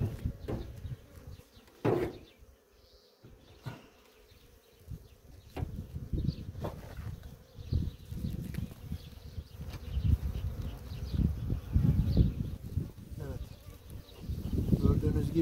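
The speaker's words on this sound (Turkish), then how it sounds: "Kafkasla Anadolu melezi arı" A swarm of Caucasian-Anatolian hybrid honeybees drones steadily around an opened hive, a dense low buzz rising and falling close by, with scattered knocks and handling noises from the beekeeper.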